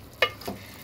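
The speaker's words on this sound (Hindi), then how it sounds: "अब हमने इसमें दाल डाल दी है, थोड़ा सा हम इसको मिक्स करेंगे।" A spoon stirs chana dal into cooked bottle gourd in a pan, giving one brief scraping stir followed by a softer second movement under a faint sizzle.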